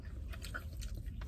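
Crunchy sushi with cucumber is bitten and chewed close up, giving a short run of soft, moist crunches over low background noise.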